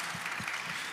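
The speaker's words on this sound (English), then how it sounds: "Let's give him a round of applause." Audience applause from a crowd at a book event, a dense steady patter of clapping filling the full second at moderate level with no talk over it.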